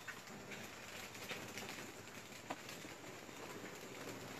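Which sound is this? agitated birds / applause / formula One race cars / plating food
agitated birds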